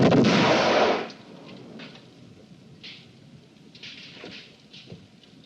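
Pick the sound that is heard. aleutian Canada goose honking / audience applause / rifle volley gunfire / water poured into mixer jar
rifle volley gunfire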